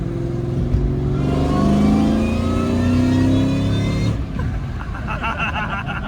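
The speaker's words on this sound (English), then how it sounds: "I want to hear the blower against the walls" A supercharged Mustang SVT Cobra accelerates hard with a loud, rising engine roar and a climbing blower whine up close for about four seconds, then lifts off into a quieter rumble.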